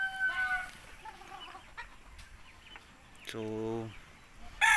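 A broodcock rooster on a mini backyard farm, the father of the brood, clucks in short calls and then gives one clear, fairly close crow, over a faint outdoor background, with a brief spoken word.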